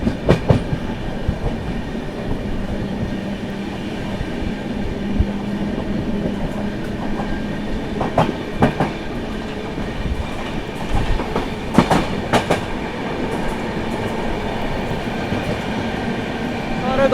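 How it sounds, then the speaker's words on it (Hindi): The Jharkhand Sampark Kranti Express runs through Bhabua Road without stopping, heard from on board as a loud, steady rumble with rhythmic clickety-clack of wheels over rail joints and occasional metallic bursts. "अपनी झारखंड संपर्क क्रांति एक्सप्रेस स्किप करती हुई भभुआ रोड"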